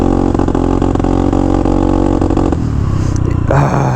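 Honda Navi motorcycle with a flooded carburetor revving loudly at wide open throttle, a rough, sputtering engine note that drops off partway through and then surges briefly again near the end.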